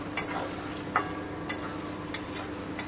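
Mourola fish masala fries in a kadai with a continuous soft sizzle, broken by about five sharp scraping strokes of a spatula at a regular, unhurried pace.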